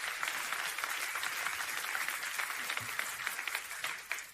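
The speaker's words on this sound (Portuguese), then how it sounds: "aplauda ao Senhor" Applause and clapping from a church congregation during a sermon, fairly faint and distant, a sustained wash of hands with slight swells.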